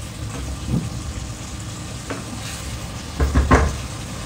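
Sambal sweetened with sugar fries in oil in a pan, a steady low sizzle with scraping stirring strokes that grow louder and more frequent near the end, close and without any talking.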